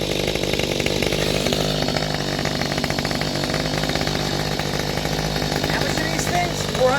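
A small Mantis garden tiller's two-stroke engine idles after a carburetor diaphragm replacement, giving a steady buzzing drone that holds close and fairly loud for the whole stretch, with no talk over it.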